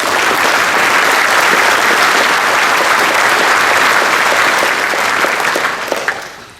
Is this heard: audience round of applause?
yes